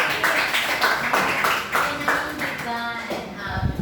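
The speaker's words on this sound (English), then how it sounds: "clap your hands for everybody" A literature class claps together in a classroom, producing a cluster of rhythmic, fairly close hand claps that thin out as a voice begins speaking toward the end.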